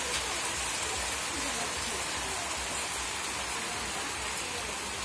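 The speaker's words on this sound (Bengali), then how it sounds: "এত বৃষ্টি, সারাদিন যদি এভাবে বৃষ্টি হয় তাহলে কি আর আসলে ভালো লাগে?" Heavy rain pours down steadily and loudly in a rural outdoor setting, a dense unbroken wash of drops hitting surfaces for the whole stretch, with no voices over it.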